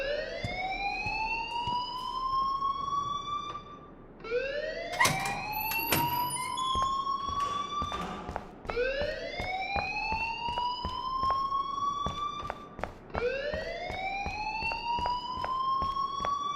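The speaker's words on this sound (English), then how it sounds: "please turn off that alarm since that's your job" A repeating electronic alarm in the video game Life is Strange, each rising wail sweeping upward for a few seconds before restarting, loud and insistent, with clattering clicks and a brief tonal beep in between.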